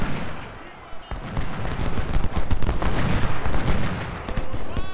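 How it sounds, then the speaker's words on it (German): Musket and cannon fire crackles through a Civil War battle in the strategy game Ultimate General: Civil War, dense overlapping shots building steadily after a quieter first second, with a voice talking over the din. "Ich schieß auch schön von hinten drauf"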